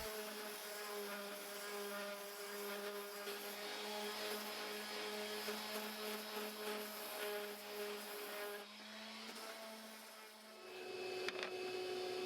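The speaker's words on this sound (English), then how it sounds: "I can quickly sand all the pieces using my random orbital sander" A random orbital sander works over purpleheart picture frame pieces, giving a steady broadband whir with a constant motor hum that shifts in pitch partway through and ends with a brief change near the close.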